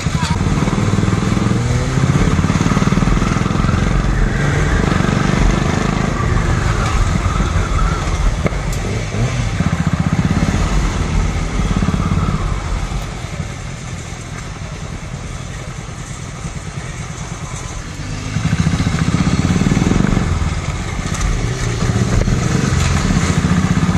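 A BMW S1000RR superbike engine runs near Howrah Bridge and Howrah Station in Kolkata, a steady loud rumble that dips in the middle and swells again toward the end, with street noise and voices around it.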